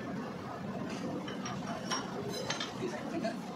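Metal bolts clink and tick into place while a JCB axle housing is fitted in a workshop. The light, scattered taps are faint and close, set against low background noise and a little talk.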